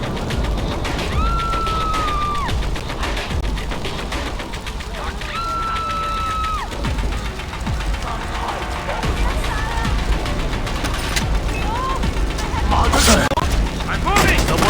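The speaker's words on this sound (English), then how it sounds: "Someone's shooting!" Gunfire in the video game Far Cry 4, repeated shots and bursts over a busy game soundscape, with a shouting voice in between and heavier blasts near the end.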